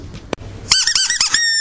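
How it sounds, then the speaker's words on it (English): A squeaky toy is squeezed close by, giving a run of four or five rapid, high, wheezy squeaks after a single sharp click. "squeaky toy or rattle,"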